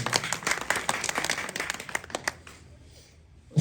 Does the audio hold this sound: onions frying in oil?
no